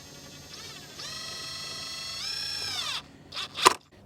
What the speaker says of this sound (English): drill it through the face of the 3-inch board